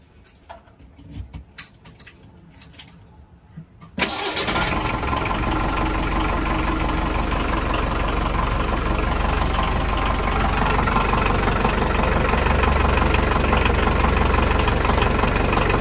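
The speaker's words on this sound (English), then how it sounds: "4-cylinder diesel engine." After a few seconds of quiet clicks and handling noise, an old four-cylinder diesel boat engine cranks and starts abruptly, then settles into a loud, steady knocking idle.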